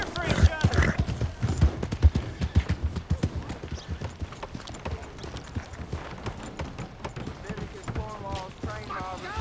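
Galloping horse hooves in Red Dead Redemption 2, a steady rhythmic clip-clop at close range, mixed under game music and character voices with a few whinny-like tones.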